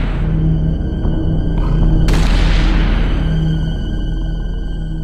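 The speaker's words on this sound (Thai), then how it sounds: "แล้วเจ้าเล็กก็ยิงปืนขู่ไปสองนัด" Two warning gunshots fired at night in a jungle from a raised hunting platform: a softer bang and then a louder sharp boom that fades slowly, over a steady low ambient drone.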